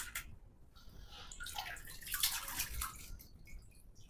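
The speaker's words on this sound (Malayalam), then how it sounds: "നന്നായിട്ട് കഴുകി" Mutton pieces being washed in water for biryani, a steady splashing and trickling wash with drips, fairly close and without speech.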